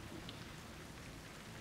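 Rain falls steadily in the open world of Ghost Recon Wildlands, a faint, even wash of drops that holds unchanged through a short moment with no voices.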